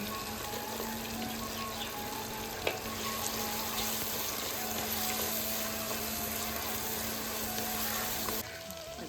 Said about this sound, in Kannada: ನೋಡಿ ಸಣ್ಣ ನೀರುಳ್ಳಿ ಹಾಕ್ತಾ ಇದ್ದೇನೆ